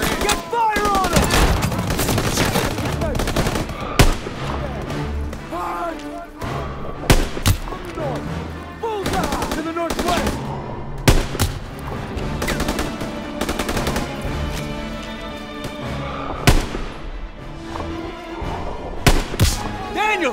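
Call of Duty: WWII combat with rapid bursts of machine-gun and rifle fire, loud and close, cracking repeatedly over a dense battle din while soldiers shout in between.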